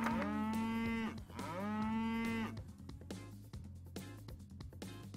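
Cattle lowing in the Farming World video game: two long, loud moos in succession, followed by quieter farmyard game noise with no talking.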